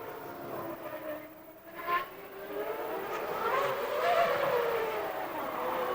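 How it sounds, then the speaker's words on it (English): An Arrows Formula 1 car drives past at the 2001 Monaco Grand Prix, its high engine note rising and sweeping in pitch as it approaches, moderately distant over a quiet background. "Ooh, one of the Arrows cars"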